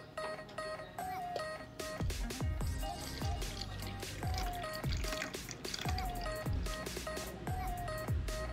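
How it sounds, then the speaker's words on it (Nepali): Water being poured into a homemade hydraulic earthquake sensor, heard as a series of irregular drips and splashes with a faint tonal hum in the background. "यसमा म पानी हाल्दैछु।"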